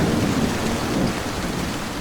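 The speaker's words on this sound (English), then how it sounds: "we have noise from thunder," Heavy rain pours loudly while a deep thunder rumble rolls underneath, fading slightly toward the end, with no voices.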